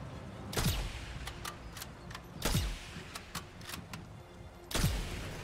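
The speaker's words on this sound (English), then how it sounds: "four shots to fully destroy the tank with the M1903 sniper rifle" An M1903 sniper rifle in Sniper Elite 5 fires armor-piercing rounds at a tank: three loud, booming shots land about two seconds apart, with lighter mechanical clicks between them and no talk.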